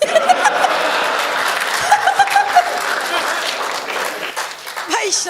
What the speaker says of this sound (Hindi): इसमें पुरुषों ने सबसे ज्यादा ताली बजाई।